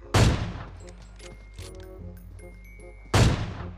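Two loud, sharp gunshots from the mobile battle royale game PUBG Mobile, one at the start and one near the end, with quieter in-game clicks and tones between them.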